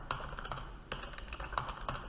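Keys clatter on a computer keyboard in short, uneven bursts of clicks, close and clear, with no talking.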